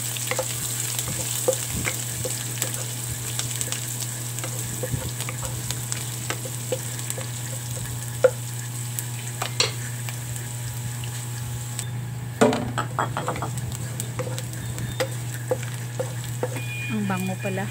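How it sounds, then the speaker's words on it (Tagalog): Onion and minced garlic sauté in a hot pan with a steady, close sizzle throughout; soft stirring clinks and brief scrapes break in now and then, with a short burst of bubbling hiss near the end. "Igisa na natin yung ating mga lamas. Onion at saka garlic at saka onion mince."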